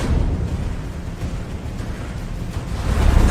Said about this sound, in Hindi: धमाके के साथ भारी लोहे का दरवाजा अंदर की तरफ गिरा।